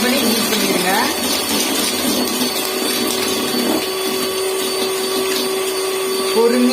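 A mixer grinder beats sugar with a steady, loud motor whine and grinding roar that runs the whole time, and a voice talks over it.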